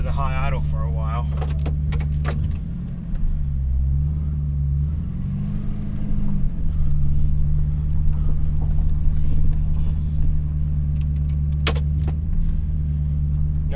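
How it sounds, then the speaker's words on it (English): A 1999 Ford F250 with a 5.4 engine rumbles at high idle, a loud steady low drone close by with shifting pitch, joined by brief clicks and jangling, and a voice speaks early on. "Pressing the gas because this thing does a high idle for a while."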